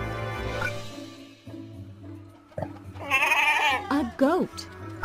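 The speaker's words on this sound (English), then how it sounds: "A goat." A domestic goat bleats in several wavering, nasal cries in the second half, loud and close over quiet background music after a calmer opening stretch.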